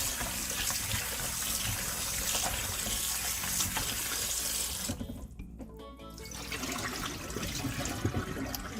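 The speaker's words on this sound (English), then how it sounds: "First, I'm gonna be washing my oxtail, washing and cleaning. I'm just gonna give it a quick rinse first." A kitchen tap runs loudly over oxtail being rinsed, a steady close gush of water with a brief dip in the middle before the flow resumes, no talk.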